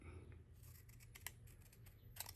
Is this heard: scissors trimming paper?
yes